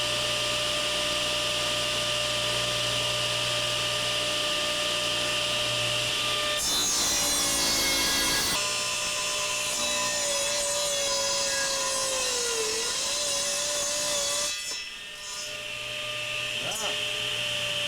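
A wood-cutting machine saws through small wood pieces in a short, loud broadband burst of about two seconds, set against a steady mechanical hum that runs through the whole clip, with a faint voice in the background.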